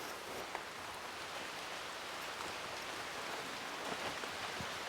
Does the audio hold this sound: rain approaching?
yes